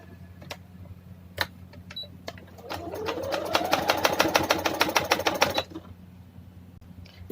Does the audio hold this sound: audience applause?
no